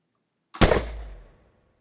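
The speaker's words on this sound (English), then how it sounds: "Let me play the gunshot sound." A single sharp gunshot sound effect used as a warning cue in a spatial hearing experiment, cracking suddenly out of silence, loud and close, with a short decaying tail lasting under a second.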